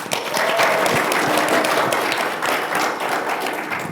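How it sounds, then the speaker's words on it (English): A room full of audience members at a live podcast recording at the ALP National Conference in Brisbane breaks into sustained applause, dense steady clapping that fills the space from start to finish. "So you should give yourselves all a round of applause."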